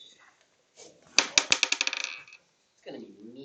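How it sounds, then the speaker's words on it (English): Dice rolled onto a hard surface during a classroom game, a quick burst of rattling clicks that bounce and settle over about a second, with faint voices before and after. "Let the dice decide your fate."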